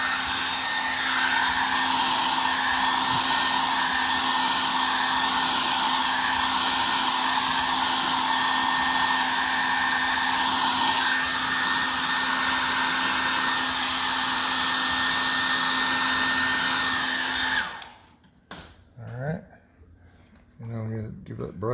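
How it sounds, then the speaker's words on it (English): A blow dryer drying fresh paint over nail heads on a painting, a loud steady whooshing roar held close for about eighteen seconds before it cuts off, followed by brief quiet handling sounds. "I want to go ahead and hit that with the blow dryer real quick again."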